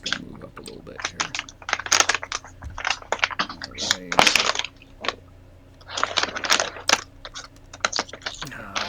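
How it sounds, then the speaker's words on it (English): Close crinkling and crackling right against a microphone, in dense bursts resembling rapid keyboard typing, with people talking over it during a tabletop game session. "Justin, I think your crinkling is a little close to your mic."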